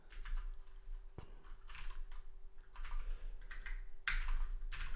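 Rapid keystrokes clatter on a computer keyboard, a dense, uneven run of close clicks with a few short pauses and a sharper burst near the end, with no talking.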